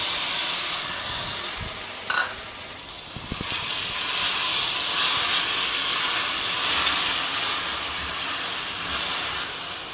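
Grated large onion hits hot ghee with a steady, loud hiss that swells after a brief clatter and holds evenly, cooking for a shahi mutter paneer gravy.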